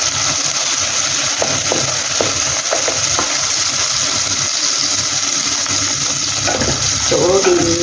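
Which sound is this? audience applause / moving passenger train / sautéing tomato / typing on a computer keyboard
sautéing tomato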